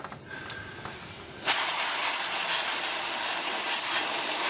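An aerosol can of cold spray hisses hard and close onto a hornets' nest in Charente, starting suddenly after a quieter moment and then running as one long, steady spray to the end.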